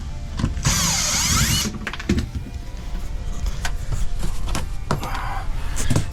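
A power drill whirs in short bursts while backing screws out of an RV interior vent cover, with a strong high whine at first, then rattling clicks and handling clatter nearby.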